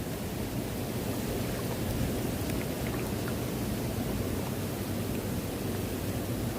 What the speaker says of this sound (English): Bit of rain?